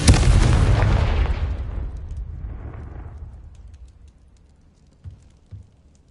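Confringo explosion spell in the Hogwarts Legacy video game: one loud, close blast that rumbles and fades over several seconds, followed by two faint thuds.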